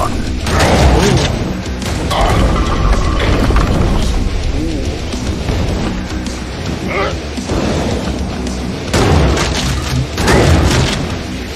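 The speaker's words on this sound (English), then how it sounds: "Triple shotgun." A triple shotgun fires in the 90s-style shooter Hellbound: heavy booming blasts go off repeatedly, spaced several seconds apart, loud and close against a constant rumbling game backdrop.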